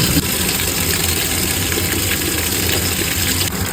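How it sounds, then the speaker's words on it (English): Water pours into an old-style washing machine in Costa Rica, a steady loud rushing drone with a mechanical hum underneath, no speech. "So first you're gonna turn on the water."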